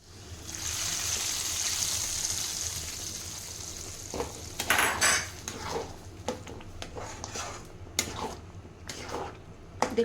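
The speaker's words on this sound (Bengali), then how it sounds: "এবার ডালের উপর আমি এটা তড়কা লাগাবো।" Hot tadka tempering is poured over Punjabi dal in a pot and bursts into a brief, sharp sizzle. Scattered clinks of a spoon and pot follow over a low steady background hiss.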